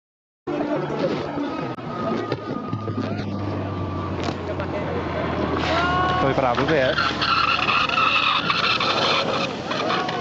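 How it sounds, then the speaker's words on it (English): Aircraft wheels squeal and skid across a snowy runway on touchdown at Courchevel, a loud, sustained screech under continuous engine roar, with rising whining tones toward the end. "Can you hear that awful squeal of the wheel?"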